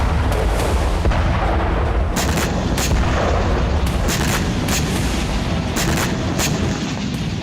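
Artillery and gunfire strike Russian defense lines in a war zone, a dense continuous rumble punctuated by repeated sharp bursts and booms, loud and close throughout.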